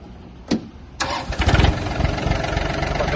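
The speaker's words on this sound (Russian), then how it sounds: "Запустим, покажем трактор." A click, then a Yanmar AF-24 compact tractor's small engine cranks and catches, settling into a loud, steady chugging idle close by.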